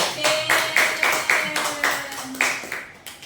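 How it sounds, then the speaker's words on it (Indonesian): Students clap together in a classroom, a rhythmic, unison series of about eight sharp hand claps with faint talk in the background. "Jadi tepuk tangan dulu."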